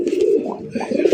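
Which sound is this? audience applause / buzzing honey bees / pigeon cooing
pigeon cooing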